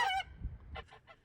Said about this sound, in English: the geese were very curious as to what's going on